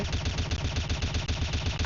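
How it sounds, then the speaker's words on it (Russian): Rapid, continuous gunfire from a video game, a dense rattling burst that keeps up steadily without pause for its whole length, loud and close. "Стрельба!"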